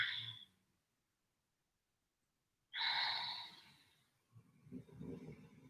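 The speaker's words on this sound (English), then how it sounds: "Hopefully you guys can hear my dog snoring because it's really loud right now." A dog snoring nearby, two slow breathy rasps separated by silence, followed by a low rumbling exhale.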